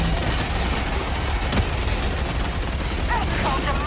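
Rapid turret gunfire rattles steadily through a busy video game battle, forming a dense continuous volley with one sharper crack midway, while a player talks over it.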